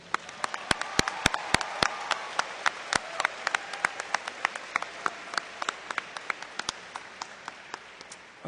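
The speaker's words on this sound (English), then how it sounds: "So let's give her a round of applause." Audience in a large hall applauding a retiring teacher at a high school commencement, a steady wash of many hands clapping with sharp individual claps standing out, gradually thinning over several seconds.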